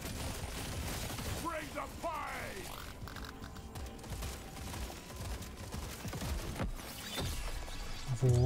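Rapid weapon fire from the Deep Rock Galactic: Survivor video game crackles and bursts continuously under dense game effects and a voice talking over it.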